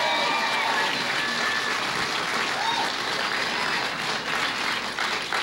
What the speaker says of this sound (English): give Dan a big round of applause